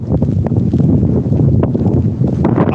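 Loud, blustery wind buffets the microphone, a constant low rumble with gusting bursts throughout.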